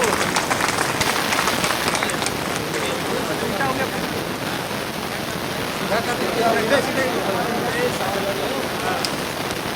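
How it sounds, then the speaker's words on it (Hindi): An audience at a public gathering applauding, a dense sustained burst of clapping throughout, fairly loud and close, with voices mixed in. "लोग, ताली बजाओ।"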